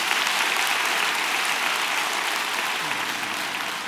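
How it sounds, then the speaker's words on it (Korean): Steady, dense applause from a church congregation fills the whole stretch at an even level, with faint voices mixed in beneath the clapping. "박수 한번 해주시고요"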